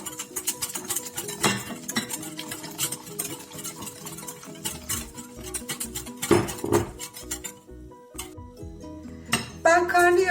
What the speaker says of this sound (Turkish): Suyu eklerken topaklanmaması için hızlı hızlı karıştırıyorum.